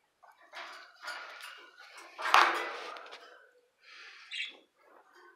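A pet parrot at home giving several short squawks and chattering calls, close and fairly loud with brief pauses between, one louder harsh burst in the middle.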